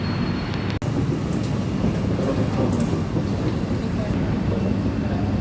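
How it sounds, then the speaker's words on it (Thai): A low, rumbling roar of a Bangkok MRT subway train at Phetchaburi station fills the space, steady and loud, with a sharp click early on and faint voices in the background. "บรรยากาศนี่รถไฟใต้ดิน"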